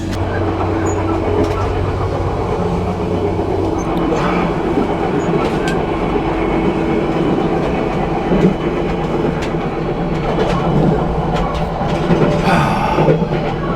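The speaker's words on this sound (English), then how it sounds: "I really had a good trip on the compartment train" A compartment train in Indonesia rolls along with a continuous, fairly loud rumble and faint clickety-clack from the rails, heard from inside the carriage, with occasional muffled sounds over the steady noise.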